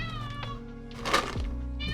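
A house cat meows once, close and clear, its brief call rising over a quiet background hum with faint tonal music underneath.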